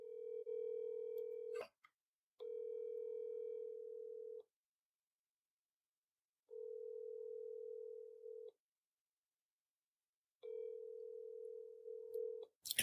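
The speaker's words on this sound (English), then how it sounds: "It doesn't look like our correspondent, Andrea Nanini, out in the field is answering the phone at this point in time" An unanswered phone call: a steady ringback tone repeats four times in two-second bursts separated by silent gaps, heard clearly and alone.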